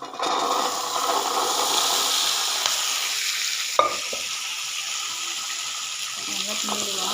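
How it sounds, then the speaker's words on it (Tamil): Boiled chickpeas go into a pan of frying onions, which sizzles with a steady, loud hiss throughout. Near the middle comes a single clunk from the pan. "இப்போ கொண்டக்கடலையை போட்டுடலாம்."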